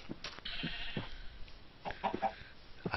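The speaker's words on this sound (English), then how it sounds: "There are some sheep." Sheep bleating in the video game Minecraft, several short bleats scattered across the clip from more than one animal, moderately close, with no talking.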